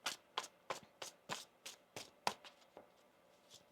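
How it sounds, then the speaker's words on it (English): Tarot cards are shuffled in a quiet room, giving about a dozen soft, evenly spaced riffling slaps and taps, close and fairly faint. "One more shuffle here."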